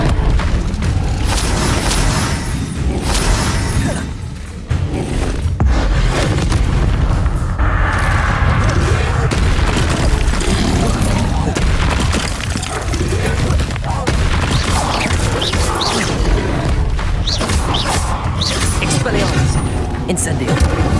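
Hogwarts Legacy combat with the Incendio fire spell cast over and over: loud whooshing bursts and heavy booms pile into a dense, nearly continuous roar, with a voice talking over the effects.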